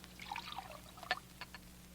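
Water pours from a pitcher as a radio drama effect, a faint trickle and splash followed by a few light drips and clinks, quiet against a low background hum.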